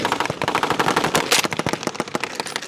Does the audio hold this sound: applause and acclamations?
no